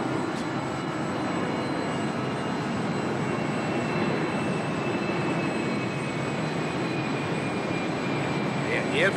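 Airplane engine noise in a German radio play, a steady, loud broadband roar heard from inside the aircraft cabin that holds constant throughout with no voices over it.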